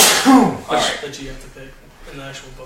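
One sharp sneeze bursts out at the start during a Star Wars tabletop role-playing session, followed at once by ongoing conversation around the table.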